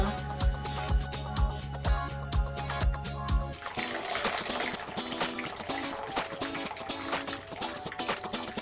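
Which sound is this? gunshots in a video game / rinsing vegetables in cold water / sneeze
rinsing vegetables in cold water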